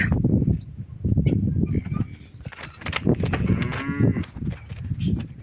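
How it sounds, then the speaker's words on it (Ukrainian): A young bull calf, bred from a small Swedish-breed cow and a Jersey sire, moos in a drawn-out, close call amid rustling barn noise and faint scuffling. "Ось такий у нас вже бичок."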